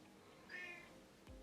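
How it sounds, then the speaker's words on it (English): A single short, scratchy cat meow, close and quiet, followed by faint room noise. "He has the ugliest meow."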